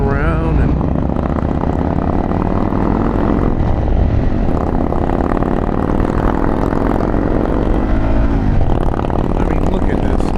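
A Harley-Davidson Pan America motorcycle's engine and exhaust drone steadily while riding open mountain roads near Reddish Knob, Virginia, loud and continuous throughout with wind rush.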